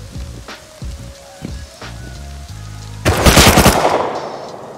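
Semi-automatic rifle fire in the survival game Rust: a dense, loud burst of shots sets in past the midpoint, following a few quieter single cracks and clicks earlier on.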